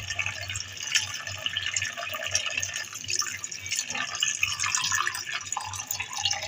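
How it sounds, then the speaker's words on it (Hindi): Tap water pours in a steady, continuous stream into a bowl of mutton liver, splashing and gurgling at close range without pause. "तो यहाँ पर मैं जो है बिल्कुल नल का पानी डाल रही हूँ।"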